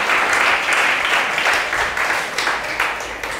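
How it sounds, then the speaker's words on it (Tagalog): A church congregation bursts into sustained applause, steady and dense clapping that swells and lingers at moderate loudness without pause. "Lahat na naniniwala, pumalakpak na the best."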